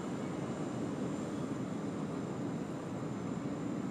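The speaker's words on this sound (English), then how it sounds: "enjoy the beautiful engine start sounds of the Qantas A380 off to London" Jet engines on a Qantas Airbus A380 at Sydney Airport spool up in a steady, broad roar with a faint high whine above it, continuous and fairly distant, with no voices.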